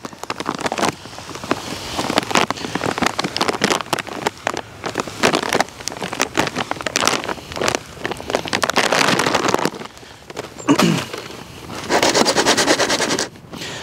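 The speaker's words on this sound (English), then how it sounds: "and add some sand." Sand poured and scraped over horseradish roots being layered for storage, a continuous close gritty hiss and rattle with brief pauses between pours, no voices.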